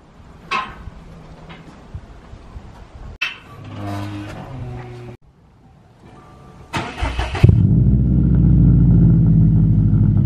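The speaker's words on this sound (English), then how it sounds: "that cold start was a little loud" Subaru STI engine cold start: after several seconds of quiet handling noises, the starter catches and the engine roars to life loudly, then settles into a steady, rumbling high idle close by.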